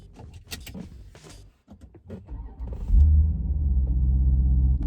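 Clicks and rustling come first, then a Jeep SRT with an X-pipe exhaust, on studded tires in snow mode, settles into a deep, steady engine rumble inside the cabin in snowy weather.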